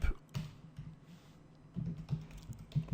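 Computer keyboard typing in short bursts of clicky keystrokes, a quick flurry at the start, a pause, then more rapid clusters near the end, close and moderately quiet.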